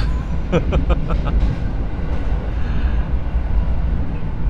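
A passenger train rumbles along a double track with a low, continuous roar, rhythmic clicking of wheels over rail joints early on, and a faint squeal overhead.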